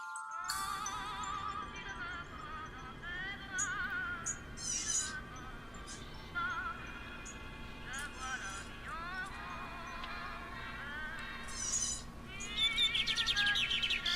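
Songbirds trill and chirp continuously, with overlapping bright, rapid calls layered over a steady soft hiss and growing busier toward the end.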